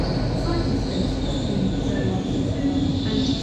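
A nine-coach passenger train runs steadily on rails toward London Paddington, giving a continuous loud rumble with a faint high wheel whine throughout and no pauses.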